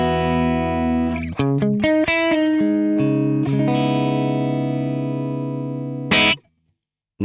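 Electric guitar played with a clean tone, a series of plucked notes and chords ringing out, then one strummed chord that cuts off into silence.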